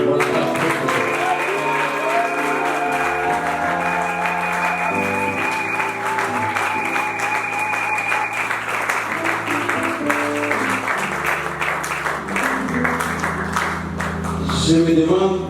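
Applause and cheering break out from a congregation at a church gathering in Metz, a steady wash of clapping sustained for the whole stretch beneath loud music.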